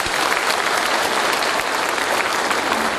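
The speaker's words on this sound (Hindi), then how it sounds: "मैं चाहूंगा बात जोरदार ताली बजाइएगा।" Sustained audience applause from a crowd, dense and loud throughout with steady clapping and no pauses.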